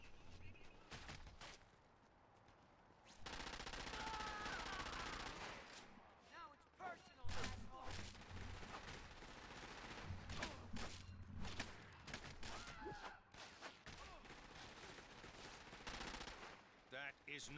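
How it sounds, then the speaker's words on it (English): Repeated gunfire in Crackdown 2, long stretches of rattling automatic bursts and scattered single shots, fairly faint overall, with brief pauses and people talking. "I did not mean to shoot that."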